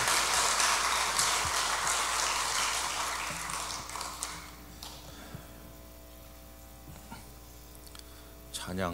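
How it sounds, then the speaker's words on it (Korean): A church congregation at a Friday prayer service applauding the pastor: dense clapping fills the first few seconds and fades out, leaving a quieter room with scattered knocks and a faint hum. "박수로 격려해 주시면 고맙겠습니다"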